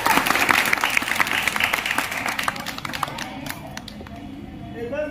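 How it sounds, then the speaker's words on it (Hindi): A group of children claps for a boy in a Hindi drama scene, a brisk burst of applause that thins out and fades in the second half before a voice comes in briefly. "ताली बजाओ इसके लिए।"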